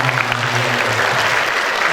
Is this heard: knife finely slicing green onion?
no